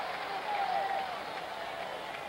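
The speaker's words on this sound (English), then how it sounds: "Didn't take long for this crowd to get something to cheer about." Fenway Park crowd at a 1975 World Series game between the Reds and Red Sox, a broad sustained roar and applause after Cooper's leadoff double, with a commentator's voice over it.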